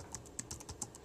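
Keystrokes on a computer keyboard while a web address is entered in a browser, a few quiet, irregular clicks spaced apart in a short, hushed moment.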